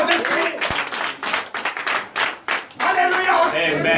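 Church congregation at a Sunday service in Benin applauding with dense, continuous clapping that swells and dips in waves, close and loud, with voices mixed in.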